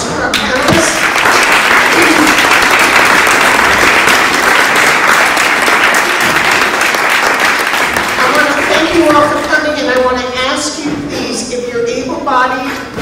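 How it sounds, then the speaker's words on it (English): A community fire safety meeting audience in Berkeley gives the panelists loud, sustained applause, dense clapping that gradually thins out toward the end as voices begin to rise beneath it. "I want a big round of applause for our panelists."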